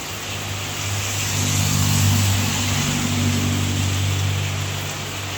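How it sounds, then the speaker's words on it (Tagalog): Heavy rain pouring down steadily as a dense, loud hiss across the whole stretch, with a low rumbling hum underneath that swells midway and eases again. "Grabe po ang lakas ng ulan."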